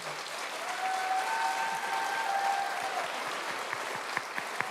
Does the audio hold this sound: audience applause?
yes